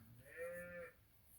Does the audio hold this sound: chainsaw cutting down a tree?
no